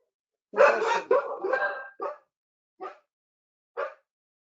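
Dogs bark close by: a burst of rapid, loud barks and yips, then three single, spaced barks with silence between them.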